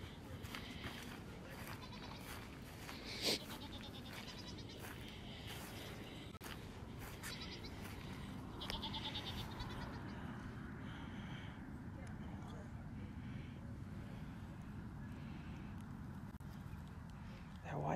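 Goats bleat intermittently over a busy outdoor farmyard background with cows and pigs, people talking throughout and occasional hoof-like clatter.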